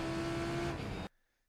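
A Lamborghini GT3 race car engine in the iRacing sim on the Hockenheimring, a loud, steady high-revving drone held for about a second before cutting off abruptly into near silence.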